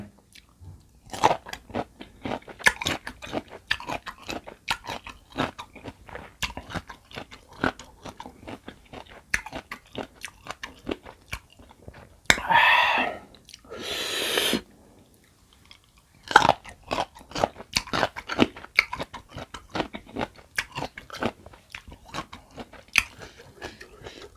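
Close, crisp crunching as someone bites and chews unripe mango with red shallot and a fermented fish dipping sauce, with irregular repeated crunches and a short loud rustling burst partway through.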